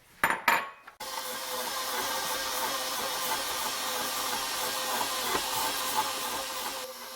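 A stand mixer with a paddle attachment creams softened butter and sugar for ricotta cookie dough, starting with a few clattering knocks and then settling into a steady, even whir that runs almost to the end.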